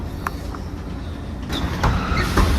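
Interior of a French city bus rumbling along, with a low steady engine drone, a few brief clicks and knocks, and the motor swelling louder toward the end.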